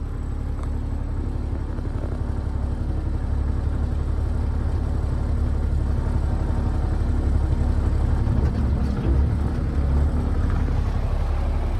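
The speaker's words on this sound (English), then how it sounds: "Trevor's truck just left." Pickup truck at a farm, a loud, steady engine rumble with a constant low drone that holds throughout and swells slightly toward the end as it pulls away.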